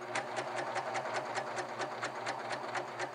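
Serger sewing machine stitching fabric, a quiet, fast regular run of mechanical ticks, about five per second, over a soft motor hum, heard alone.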